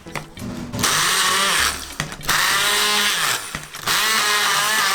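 A blender grinds dried shrimp, garlic, lemongrass and galangal into a spice paste for Sarawak laksa. The motor whirs loudly in three long bursts separated by brief pauses, with no talking.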